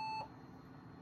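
A Macintosh Performa computer gives a single short, clear, steady electronic beep at the start, followed by quiet background hum.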